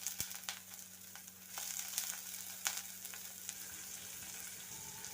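Anchovies frying in coconut oil in a pan, a steady close sizzle with small crackles and pops, no voices.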